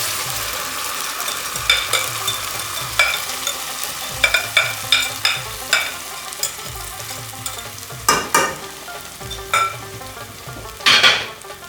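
Besan and yogurt cooking in a pan, sizzling steadily as a spoon stirs and scrapes in repeated rhythmic strokes, with sharper clinks against the pan's sides and no talking.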